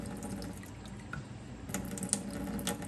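Water being poured off a container of saved tomato seeds, a faint trickling and dripping with small splashes that grow a little busier toward the end.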